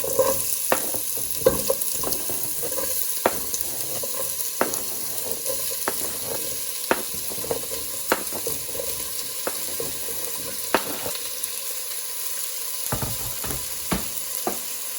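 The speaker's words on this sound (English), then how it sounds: "Now that the oil's heated up, we're going to put these into the pot." Vegetables sizzling in hot oil in a pot, a continuous loud crackling fry punctuated by sharp clicks and pops from stirring, with no talking over it.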